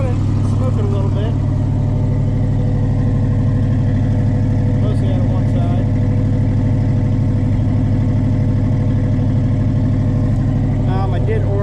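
A long-idle Fox Body Mustang engine runs with a hefty exhaust leak, giving a loud, steady, throbbing idle throughout while someone talks over it.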